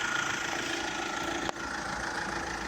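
Steady diesel idle of a VW Amarok Highline 2.0 TDI BlueMotion pickup with a hardtop, a continuous even hum heard close with a single brief click partway through.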